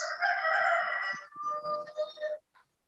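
A chicken at a home compound in Nigeria crows loudly and close, a long drawn-out call that breaks into several shorter notes before stopping.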